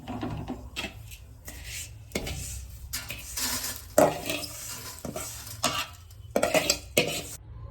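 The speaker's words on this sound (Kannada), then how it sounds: "ಫ್ರೈ ಆಗಿರೋ ಶಾವಿಗೆಯನ್ನು ಬೇರೆ ಕಡೆ ಒಂದು ಪ್ಲೇಟ್ಗೆ ಎತ್ತಿಟ್ಕೊಳ್ಳೋಣ" Fried vermicelli is scraped and lifted from a pan onto a plate for kheer, with repeated close utensil scrapes, metal clinks and rubbing noises in irregular bursts.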